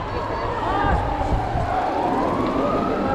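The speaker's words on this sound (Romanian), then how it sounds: "Suntem escortați de poliție timp de un kilometru pentru a ajunge pe traseu." A police escort siren wails continuously at the start of a muddy mountain bike race near Odobești, Romania, sweeping up and down over a busy crowd, with voices talking throughout.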